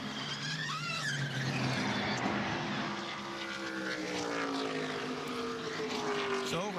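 NASCAR Nationwide stock cars racing in the 2011 DRIVE4COPD 300, a steady loud roar of several engines with rising and falling pitch sweeps as cars pass, continuous throughout with no talk.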